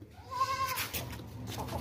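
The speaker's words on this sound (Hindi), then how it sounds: "ये देखिए माशाल्लाह से मोटा और वजनी किस्म का बकरा है" A heavy, thick-necked male goat gives one wavering bleat up close, followed by low rumbling background noise and soft shuffling.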